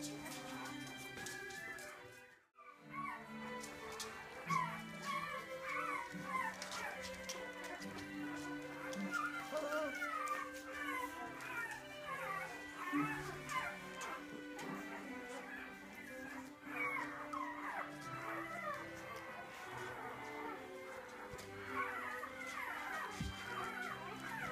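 Five-week-old British Labrador puppies whimper and yip in a playpen in a busy, continuous chorus of high cries, with people talking over them throughout.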